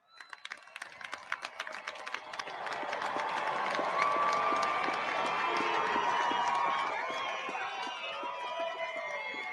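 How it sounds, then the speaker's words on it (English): Large crowd of graduating cadets at the US Air Force Academy 2021 graduation bursting into sustained applause and cheering, building from scattered claps into a dense, loud roar that holds steady, with voices mixed in. "give a round of applause to your families"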